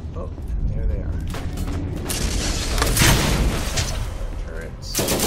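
Turrets in the video game Borderlands fire in a sustained, heavy barrage, booming and mechanical with overlapping blasts, loud and near throughout.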